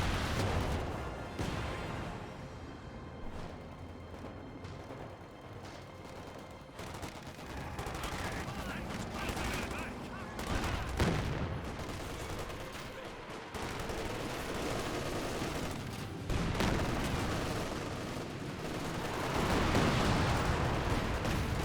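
Panzerwerfer rocket artillery barrage in the Company of Heroes 2 video game, a dense continuous rumble of explosions and gunfire crackle rolling on for over twenty seconds, moderately loud with no gaps.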